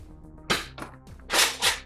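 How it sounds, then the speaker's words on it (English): A Nerf Modulus Longstrike CS-6 blaster firing at a can, a sharp close snap followed by a few more quick clacks and thumps of the mechanism and impact, no talking. "Take a shot at that extra can by itself."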